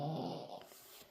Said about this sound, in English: Sorry if you hear snoring, that's my dog.